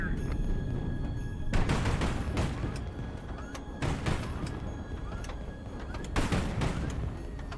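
Naval guns fire armor-piercing shells in the High Fleet video game: several heavy booming salvos with rumbling tails, spaced a couple of seconds apart over a steady low background hum, fairly quiet overall.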